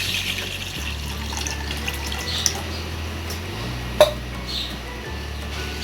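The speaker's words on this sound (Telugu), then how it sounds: "దాంట్లో ఒక చెంబెడు వాటర్ పోసుకున్నాం." Water poured from a small jug into a cooking pot in a home kitchen, a steady splashing stream that runs for several seconds, with a small metallic clink partway through.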